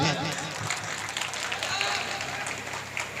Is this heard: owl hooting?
no